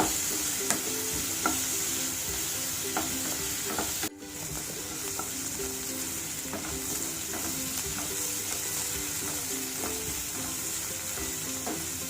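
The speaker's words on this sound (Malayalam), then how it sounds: "ഇനി ഇത് നമുക്ക് ചെറുതായിട്ടൊന്ന് വഴറ്റിയെടുക്കാം." Food sautés in a pan for a stuffed idli filling, giving a steady close sizzle with occasional light scrapes and taps of a spoon stirring, and no one speaking.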